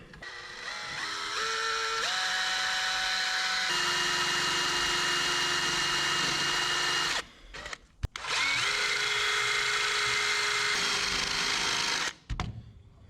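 A power drill bores through a part of a 1970 International Loadstar truck, its motor whining steadily and shifting pitch under load, stopping briefly twice before starting again.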